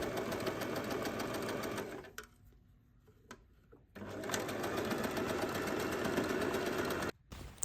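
A sewing machine top stitches fabric lines on a pencil case pocket, running in a steady, close whir, then pausing for about two seconds with faint handling noises before running again and briefly stopping near the end.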